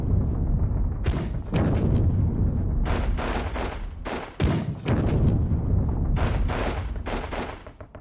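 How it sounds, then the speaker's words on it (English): Gunfire in the war game Squad Battles Eagles Strike comes as loud, close bursts of rapid shots and heavy booming reports in uneven clusters, with short pauses between volleys. "Let us shoot this way."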